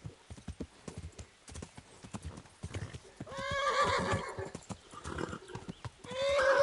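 Horse hooves clip-clop steadily in the medieval role-playing game Kingdom Come: Deliverance, with a loud whinny rising partway through and another at the end, while someone talks over the hoofbeats.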